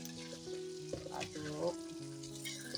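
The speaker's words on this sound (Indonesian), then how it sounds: "Lalu kita aduk rata kembali ya setelah terinya masuk." Anchovies being stirred into balado sizzling in a frying pan, a steady close fry with a few scraping stirs, over background music.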